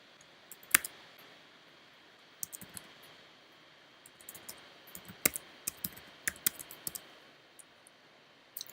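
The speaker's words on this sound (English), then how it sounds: "if you want to just generate a demo account straight from here, you can type in all your info" Sparse, faint key clicks on a computer keyboard while account details are entered during MetaTrader 4 setup on Windows, coming in short irregular bursts over a quiet room tone with no voices.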